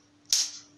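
An untuned electric fly swatter snaps against metal in a single sharp, loud crack that decays quickly against a faint steady hum.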